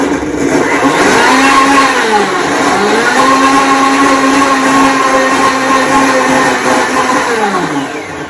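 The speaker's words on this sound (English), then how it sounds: "So remember all the stuff we put in the blender? So this is going to be really loud." A kitchen blender whirs loudly and steadily through strawberry, vinegar, salt, pepper and olive oil for a vinaigrette, its motor pitch rising and dipping a few times before winding down, alone without talk.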